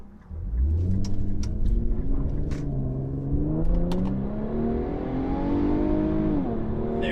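Nissan Z Proto, with the engine from the Infiniti Q50 Red Sport 400, accelerating hard in Sport Plus mode. A loud engine and exhaust note rises through the gears with shift dips, heard from inside the car.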